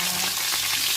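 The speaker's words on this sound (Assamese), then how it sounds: "এই কেৰাহীত মাছ জুপিছে ভাজি লৈছোঁ" Pieces of fish fry in oil in a wok with a brief, bright, crackling sizzle, steady and close up.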